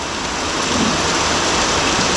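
Steady heavy rain pours down on a flat concrete roof slab in a village, a dense, continuous hiss, close and loud, with no voices.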